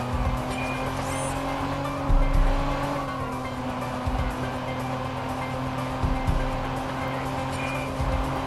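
A car racing at speed in the Watch Dogs video game, with a loud continuous engine drone, tire squeals and skids, and passing vehicles throughout.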